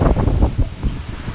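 Strong gusting wind during a sandstorm in Dammam, close, loud buffeting roar that pulses in uneven surges across the microphone for a brief moment.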